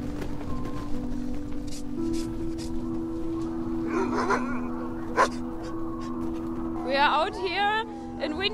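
Sled dogs whimper and yip a few times over a steady hum, with short high whines near the end; the tired animals sound close but fairly quiet.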